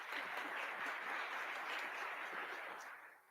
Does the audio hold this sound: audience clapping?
yes